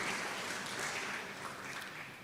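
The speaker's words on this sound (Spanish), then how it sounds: "Denle un fuerte aplauso a nuestro Dios" A church congregation applauds during a Spanish-language sermon, giving a steady, dense wash of clapping that fills the whole stretch at moderate level before easing off slightly toward the end.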